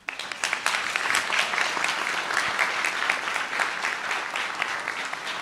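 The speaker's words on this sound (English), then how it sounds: "Can you students please give these folks a round of applause?" Audience applause at a graduation and white coat ceremony, a dense, steady wash of many hands clapping together that holds at full strength throughout.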